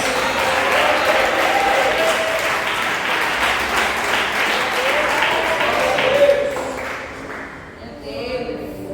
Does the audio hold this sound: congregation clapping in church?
yes